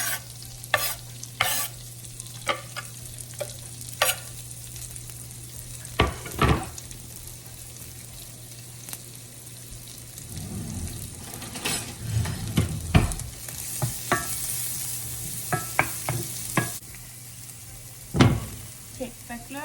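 Shallots and fennel frying in olive oil, a steady low sizzle with repeated scrapes and clicks of a spoon stirring the pan, louder bursts of spattering midway through.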